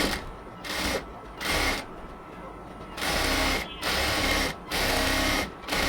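A sewing machine stitches a baby palazzo in bursts of steady mechanical whirring, several runs separated by short pauses, close and loud with no talking.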